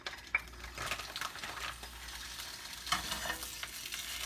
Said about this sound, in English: You hear the sizzle, sizzle, whizzle. So that means they're starting to cook.